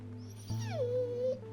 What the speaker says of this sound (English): Then I hear a whimper come from behind me.